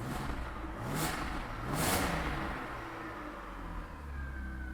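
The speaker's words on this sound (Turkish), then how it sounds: "Tak yarım marş çalışıyor abi araba." A BMW E36 engine idles steadily just after starting, a low, fairly quiet hum with two brief swells of higher noise early on.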